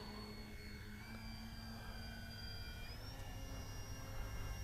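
An E-flite Beechcraft D-18 RC model airplane takes off, its electric motors giving a steady, loud droning whine that climbs in pitch as the throttle comes up, with no talk.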